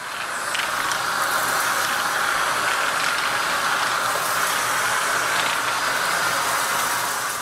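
A Flex 9-gallon HEPA shop vacuum roars steadily while it sucks up garage rocks and dirt, close and loud, with scattered gritty rattles and clicks of debris rushing through the hose.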